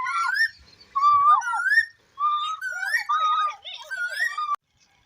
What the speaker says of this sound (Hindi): कोयल की बहुत ही प्यारी आवाज़ थी